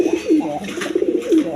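An Indian Bombay pigeon at a farm gives a few soft, close cooing calls in a short rolling sequence, heard alone without talk.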